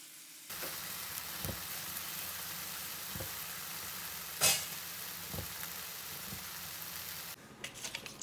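Egg roast sizzles steadily as it is mixed and fried in a pan, a soft continuous frying hiss broken by a few dull stirring knocks and one sharp scrape.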